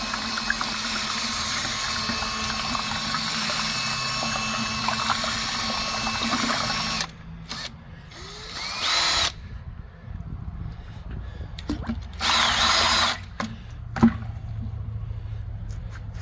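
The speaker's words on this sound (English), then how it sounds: "You can also use a drill mixer to mix up the contents" A drill mixer stirs a two-part WaterKote 2K urethane floor coating in a bucket, giving a steady whirring churn that runs continuously for several seconds, then breaks into shorter bursts with pauses between.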